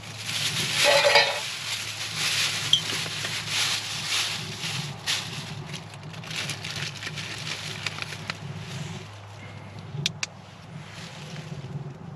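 Tomahawk steaks sizzle in oil in a pan on a wood stove in a hot tent, a crackling, hissing fry that flares loudest at first, then eases into softer spitting with occasional pops.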